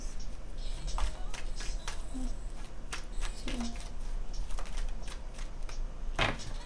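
Tarot cards are shuffled by hand in a steady run of crisp, close riffling and flicking bursts with quieter shuffling between them.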